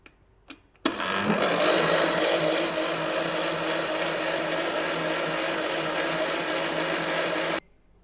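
A blender jug churns milk into lassi and butter with a loud steady whir that starts abruptly, runs for several seconds and cuts off, after a few faint clicks.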